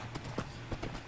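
Horse hooves clip-clopping in a village road scene of a video game, a quick steady trot of hoofbeats, moderately close over a low background hum.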